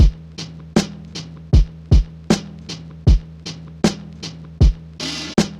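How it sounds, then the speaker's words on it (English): A chopped Beat Butcher drum break plays as a boom bap beat: punchy kicks and snares hit in a steady, looping groove, with a crash-like wash near the end. The drums are loud and alone, with no talk. "so I got a Beat Butcher break and I chopped that up"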